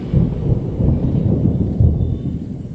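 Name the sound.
thunder rumbling, sound effect in story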